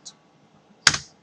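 A single sharp key press on a computer keyboard, loud and close, after a faint earlier tick and near silence, with no talk.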